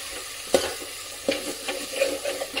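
Onion gravy is stirred in a frying pan, a soft sizzle under a few distinct spoon knocks and scrapes against the pan, quiet and close with no voices.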